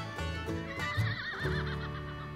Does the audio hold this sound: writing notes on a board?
no